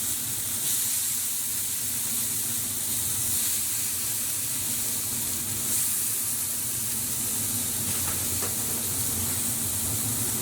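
Chicken tandoori kebab skewers sizzle steadily on a grill, a continuous broadband hiss of fat and juices that stays close and even throughout with no talking.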